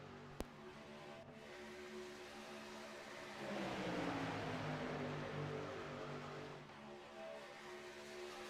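Engines of racing trucks in a Daytona truck series racing game hum in a continuous pack drone, pitch sweeping upward and downward as trucks draw alongside, louder through the middle, with no talking.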